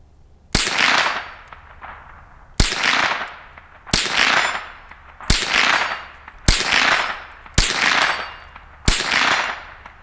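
Seven sharp cracks from a Marlin Model 60 .22 rifle fired at targets, spaced a second or two apart, each snapping loud and close with a brief ringing tail.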